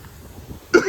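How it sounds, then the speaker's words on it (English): A single sharp, loud cough bursts out near the end, following a stretch of quiet outdoor background with faint low rumble, recorded in a yard beside a shed. "Sorry, I keep coughing."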